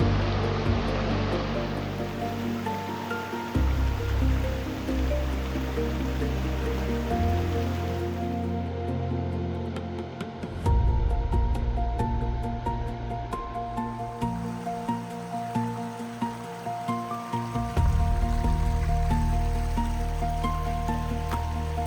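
Creek water cascading down a series of rocky drops into a swimming hole on North Matilija Creek in the Los Padres Mountains, a steady close rushing wash that swells and thickens in places with no talking.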